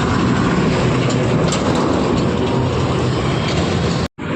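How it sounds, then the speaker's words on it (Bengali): A freight coal train rolls beneath a road overbridge in Purulia, a loud continuous rumble and rattle of wagons heard from above, cutting out briefly near the end. "আর দেখো নিচ দিয়ে দেখো ট্রেন আছে, মাল ট্রেন।"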